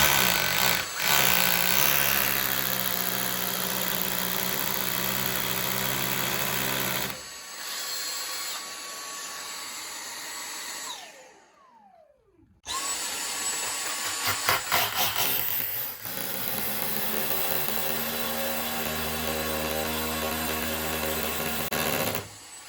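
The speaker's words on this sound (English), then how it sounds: "just get a hoover under the drill bit and hoover it as you're drilling" A power drill bores into a wall while a hoover runs beneath the bit to catch the dust, a loud continuous whine broken by a pause midway before the drilling and vacuum drone resume.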